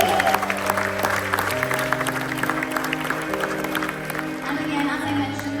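A cruise ship audience aboard Icon of the Seas applauds armed forces veterans with a moderate, steady wash of clapping, with tonal background sound running underneath.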